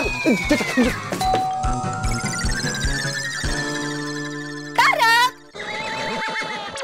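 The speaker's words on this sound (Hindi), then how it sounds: "तो ठीक है, डोरबेल मैं बजा देता हूँ" A two-tone doorbell chimes amid a busy mix of music and sound effects, with a short burst of louder noise partway through.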